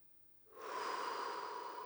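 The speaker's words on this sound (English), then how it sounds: "Exhale slowly outside of the inhaler and resume normal breathing." A slow, steady exhale of breath after inhaling powdered medication from a Turbuhaler inhaler, a soft airy rush that begins about halfway through and holds evenly to the end, close and alone.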